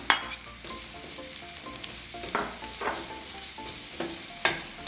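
Chopped onions drop into hot oil with garlic and ginger for a Kerala chicken curry. A soft steady sizzle runs throughout, with a few sharp clinks of a spoon against the pan. No one speaks.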